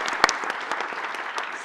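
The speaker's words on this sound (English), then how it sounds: "let's give everybody a round of applause for their time" Applause from an audience thanking a panel at a business forum: a brief burst of steady clapping, fairly close, with a few louder claps standing out.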